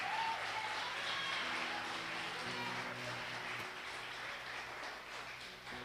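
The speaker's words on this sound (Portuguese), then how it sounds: "Você pode aplaudir a Jesus" A church congregation at a Sunday family service claps together, a dense continuous patter of many hands heard from some distance, fading slightly toward the end, with faint murmur beneath.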